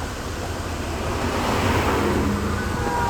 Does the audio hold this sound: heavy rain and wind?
yes